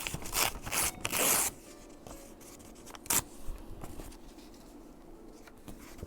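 Paper is torn from a typing shorthand book for a collage: several loud ripping bursts early on, then a sharper single tear and quieter rustles of handling.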